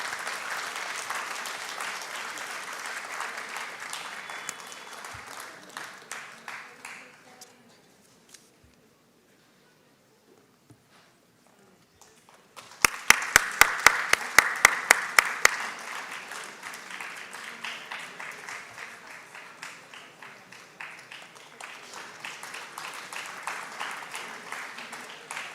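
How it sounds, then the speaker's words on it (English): Sustained audience applause for award winners at an International Women's Day ceremony, a dense patter that fades to near silence, then resumes with a few sharp claps before swelling back into steady applause. "Big round of applause."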